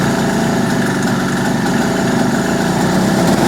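A generator more than ten years old, a small petrol unit running without load on ten-year-old fuel, drones loud and steady nearby at an even idle with a fine mechanical buzz and no talking.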